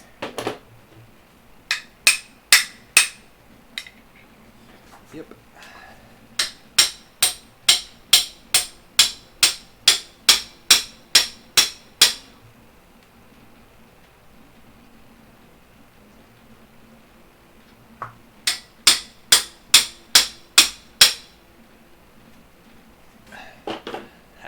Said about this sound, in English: I just have to hammer it in and go from there.